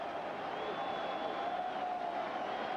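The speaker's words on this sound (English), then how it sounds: "Crowd buzzing as Darryl Strawberry stands in." A baseball stadium crowd at a 1998 Red Sox–Yankees game at Yankee Stadium murmurs steadily, a soft continuous buzz heard from a distance.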